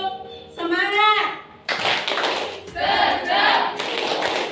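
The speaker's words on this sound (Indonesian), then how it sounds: "Nah, sekarang kita tepuk semangat." A primary school class claps out a rhythmic spirit chant (tepuk semangat) in quick bursts, with children's voices and a teacher's voice mixed between the patterns of claps.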